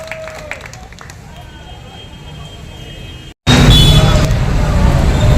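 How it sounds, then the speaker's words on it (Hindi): A quiet murmuring room at a Hindi poetry gathering suddenly erupts into loud, dense applause from a large crowd, sustained and close until the end. "तो बजाइए जोरदार ताली, किसका इंतजार है"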